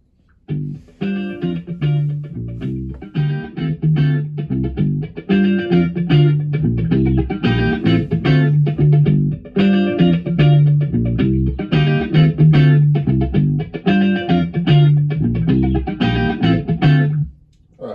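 An unprocessed guitar sample plays dry through a Mic Mix Master Room XL-210 spring reverb unit, plucked notes and chords in a steady rhythmic pattern, close and loud for the whole stretch, with no talking.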